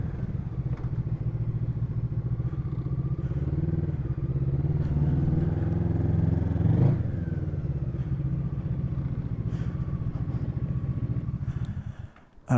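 A motorcycle engine drones steadily up close at a motorcycle driving school, rising briefly midway as if revving, with some rattling clatter and wind noise throughout.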